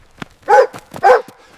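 A dog gives two close, loud barks about half a second apart, with softer yips and whimpers around them.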